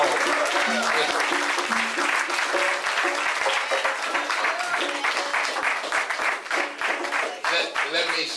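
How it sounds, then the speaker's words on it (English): A large crowd applauds steadily and loudly, a dense wash of clapping that carries on for several seconds and thins slightly near the end. "Give you a warm round of applause."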